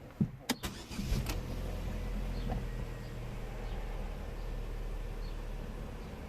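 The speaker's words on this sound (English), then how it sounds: "Let's start the engine." A few sharp clicks and a brief starter whir, then a Vauxhall/Opel Astra J engine catches and settles into a steady, low idle rumble.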